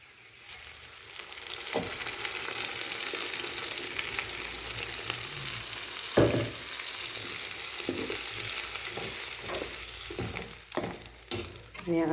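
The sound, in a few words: ground curd poured into sauteed curry mixture, frying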